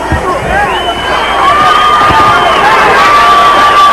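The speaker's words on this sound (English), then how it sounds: "now he's hearing it from the crowd, egging him on" A boxing arena crowd roars and shouts during a fight, a loud dense wall of cheering with rising whistles and yells, and a commentator's voice running underneath.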